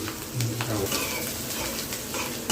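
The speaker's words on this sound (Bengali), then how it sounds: "এখন এই যে পেঁয়াজ ভাজছে" Onions frying in a pan during home cooking in a kitchen, giving a steady, close sizzle and crackle throughout, with a low voice faintly under it.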